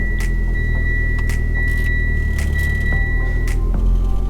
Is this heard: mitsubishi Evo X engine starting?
yes